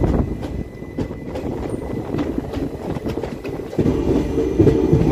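A metro train runs on the line into Dum Dum station, its loud, continuous rumble carrying rhythmic clickety-clack wheel beats and a faint squeal near the end.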